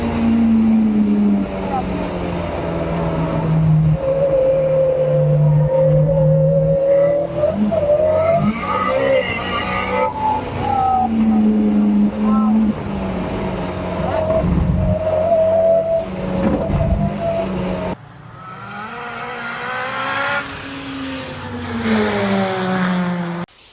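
A Honda K20-engined car laps Cadwell Park on a track day, engine loud and close, revving up and down through gears with tire noise, while voices talk over it throughout.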